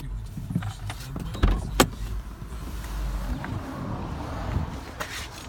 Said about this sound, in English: the roof will go all the way back within 18 seconds